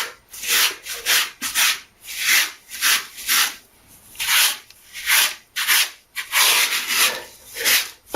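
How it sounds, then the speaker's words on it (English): A grout float working grout into floor tile joints during a bathroom remodel, rhythmic scraping and rubbing strokes roughly every half second, close and fairly loud, with no talk. "you're just working it in to the crack, trying to get it as deep down in"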